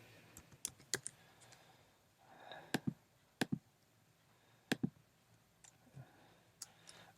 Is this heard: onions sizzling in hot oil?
no